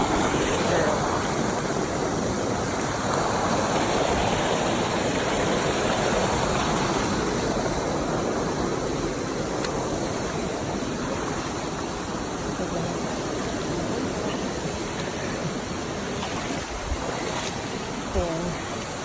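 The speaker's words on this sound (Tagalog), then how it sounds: "Another falls again." Rushing water from a waterfall in a cave area in Baggao, Cagayan, Philippines, a dense continuous roar mixed with wind, steady and close throughout.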